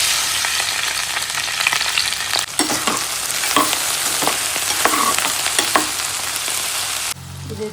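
Sliced ivy gourd fries in oil in a pan, giving a loud, continuous sizzle broken by sharp crackles and scraping stirs, with no talking.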